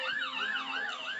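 A police car siren wails in a rapid, rising and falling yelp, loud and close, with no talk over it.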